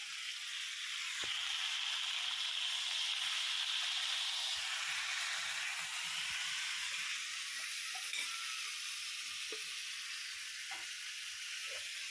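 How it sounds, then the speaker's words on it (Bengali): Vegetables and tomato fry in a pan, giving a steady, loud sizzle and hiss throughout with a few soft stirring clicks, no voices. "হালকা করে সবজিটা ভাজা হয়ে গেছে"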